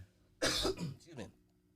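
A single close cough, sharp and harsh, followed by a brief rough throat-clearing tail, in an otherwise quiet room.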